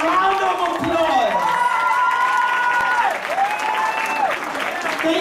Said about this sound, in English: we all need to stand up and give them a round of applause